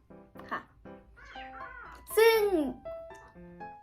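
Several cat meows, close and clear, with one long drawn-out wail in the middle, mixed with brief soft voice sounds.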